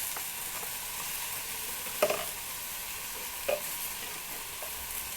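Meat frying in a pan with chopped Malabar spinach and ground coriander being added, a steady soft sizzle with two brief scrapes of stirring.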